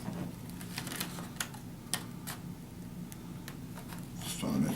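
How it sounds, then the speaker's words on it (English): Paper is cut with scissors to make a box bag, giving a run of small sharp snips and crisp clicks spaced unevenly, close and fairly quiet, with a faint background hum. "Just trying to make sure that I'm cutting it even."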